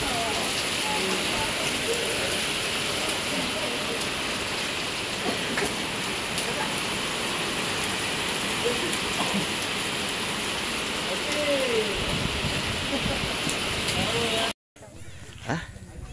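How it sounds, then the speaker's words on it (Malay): Heavy rain pours steadily on a fishing pond, a dense continuous hiss that stays loud nearly throughout before cutting out abruptly near the end; voices talk faintly under it. "Okey, kita dilanda hujan."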